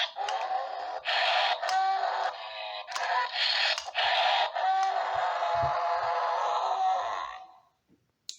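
A voice imitates roaring dinosaur sound effects for a Kronosaurus toy, loud rasping growls in several bursts, close up and alone.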